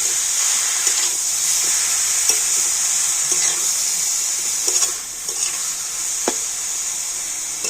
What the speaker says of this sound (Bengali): তো এবারে সবকিছু একটু ভালো করে নাড়াচাড়া করে নেব।